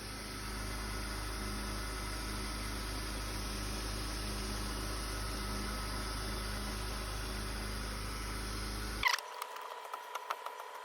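A BMW E39 engine idles briefly after a drive belt and roller replacement, giving a steady low hum with even vibration that cuts off abruptly near the end, followed by a few faint clicks.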